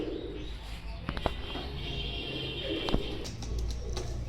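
Yellow-eyed Nepali pigeons coo softly in low, throaty bursts, with a few sharp clicks and rustles in the background.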